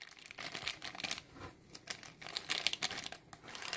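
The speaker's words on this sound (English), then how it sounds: "Get some scissors on that." Scissors snipping and crinkling through the plastic packaging of a 1/6th scale Furiosa figure with a futuristic prosthetic arm, a run of close, irregular crisp rustles and cuts with brief pauses.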